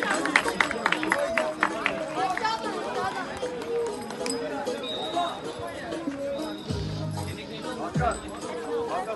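Crowd at a ceremony for a youth under-12 football team, Sakarya Hendek Spor, champions of their group, with steady applause and clapping mixed with chatter and movement throughout.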